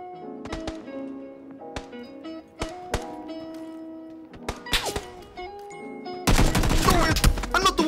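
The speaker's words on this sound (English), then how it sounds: "Oh, I'm not the one shooting!" Video game gunfire: sharp isolated shots and thuds early on, then a dense, loud burst of rapid fire in the last seconds.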